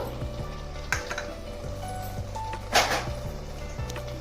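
Milk goes into simmering prawn pulao in a rice cooker, bringing a close, steady sizzle and bubbling with a few light clinks and stirring scrapes, one louder splashy burst near the end, and no talking.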